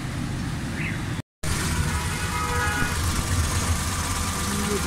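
A Suzuki Bolan Carry van engine idles steadily after fuel and jet repairs, a continuous low mechanical rumble that runs throughout apart from one brief dropout.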